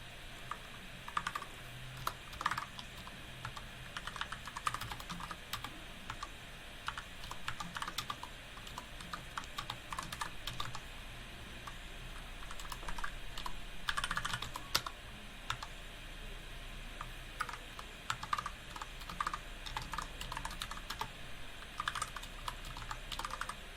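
Quiet, steady typing on a computer keyboard while writing notes, irregular clusters of soft key taps with short gaps, close by with low background hum and no voices.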